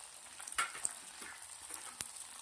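Crushed ginger, green chilli, onion and carrot fry in hot oil for baby corn manchurian, giving a soft, steady sizzle with a few light stirring clicks and scrapes, quiet and close, with no talking.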